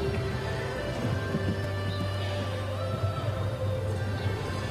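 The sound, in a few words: show jumping horse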